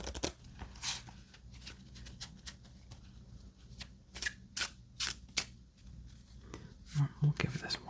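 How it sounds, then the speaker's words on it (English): Quiet riffle and snap of a deck of playing cards being shuffled, short bursts spaced through the clip, with a soft voice in the background. "We'll give this one more shuffle."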